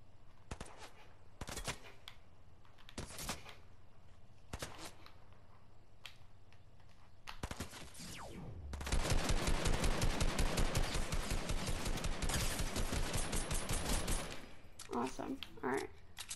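In the video game Fortnite, gunfire is aimed at the player, starting as scattered bursts of single shots and then becoming a dense, loud volley of rapid fire that lasts several seconds before breaking off.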